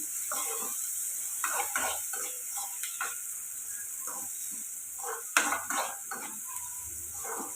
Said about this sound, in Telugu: ఇవి బాగా వేగేలాగా ఫ్రై చేసుకున్నాం